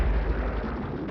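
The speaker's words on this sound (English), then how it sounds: "The thunderstorms on Jupiter are going to be generating booming thunder" Booming thunder from storms on Jupiter as a documentary sound effect, a single deep heavy rumble that starts loud and slowly fades over about a second.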